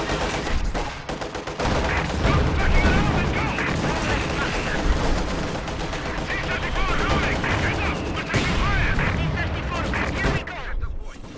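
Dense gunfire and artillery blasts pound a T-34 tank in a Company of Heroes 2 battle, loud overlapping rattles and booms throughout, with game voices speaking over the fighting.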